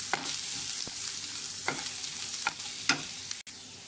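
Ginger and garlic sautéing in a pan for a mushroom masala, with a low, quiet sizzle and a few soft scrapes of a spoon stirring at intervals.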